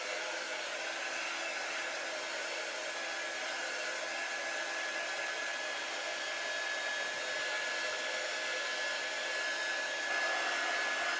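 A hair dryer blows on a white chalk ink transfer, a steady loud continuous whoosh with a thin whine running through it, unbroken for the whole stretch.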